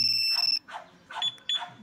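A two-way alarm installed on a Honda Click v3 motorcycle gives a piercing high electronic tone, followed by several short pulsing chirps, loud and close.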